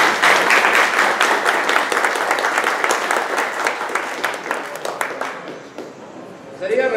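An audience at a San Martiniana cooperative gathering bursts into loud, dense applause that carries on for several seconds, then thins and tapers before a brief swell at the end.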